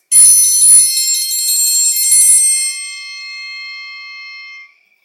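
Bells ringing throughout a house, a bright clanging peal that starts loud with a couple of strikes, then slowly fades into a long, thinning ring before cutting off.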